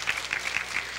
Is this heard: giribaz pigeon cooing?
no